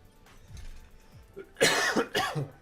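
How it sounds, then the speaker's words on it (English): Coughing fits from a sick man, two loud harsh bursts close to the microphone after a quieter stretch, with a faint rough throat sound before them. "Sorry about that cough, guys."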